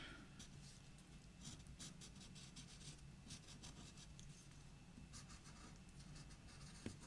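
Pencil strokes drawing bark texture on paper, with jagged lines layered in one direction. A soft, continuous scratching and rubbing runs close and steady throughout, with no talk.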